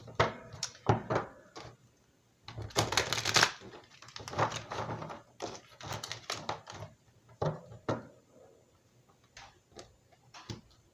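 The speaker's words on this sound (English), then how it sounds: "One more shuffle here." A deck of tarot cards is shuffled by hand in quiet bursts of riffling and tapping, with irregular clicks, pauses and a denser flurry partway through.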